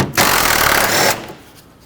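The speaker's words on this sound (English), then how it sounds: "10mm socket, remove this bolt." A 10mm socket backs out a bolt near the coolant overflow of a Chevrolet Express van, heard as one close, loud burst of whirring power-tool spin lasting about a second before it cuts off and fades.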